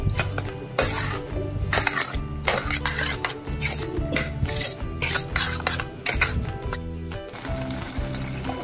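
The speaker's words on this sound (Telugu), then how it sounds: "బెల్లం దీంట్లో కలిసిపోయేదాకా ఇలా తిప్పుతూ అడుగట్టకుండా ఉండాలి" A spoon scrapes and clinks steadily against a metal pot as a jaggery mixture is stirred to keep it from sticking, with rhythmic scraping strokes close up and no talking.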